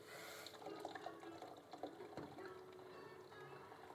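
Hot cooking water poured off boiled instant noodles (Indomie goreng rendang), a faint, close splashing and trickling under a steady background hiss.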